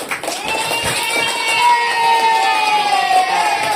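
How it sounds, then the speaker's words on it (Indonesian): A classroom of students claps briefly in a short burst of applause, with scattered cheering voices rising over the clapping. "Tepuk tangan buat semuanya dulu."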